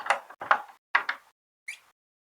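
Latch and door of a nesting box on a Producers Pride Manor free-range chicken coop: several close, sharp clacks and knocks in quick succession, then a lighter click after a pause.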